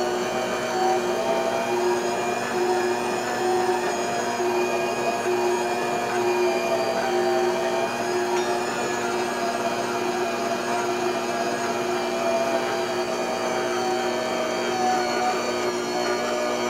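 A Mondial professional electronic stand mixer runs continuously, a steady, loud motor whir with a constant high whine and no pauses, heard close up throughout.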